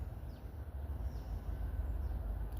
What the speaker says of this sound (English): And I can hear another train down the yard.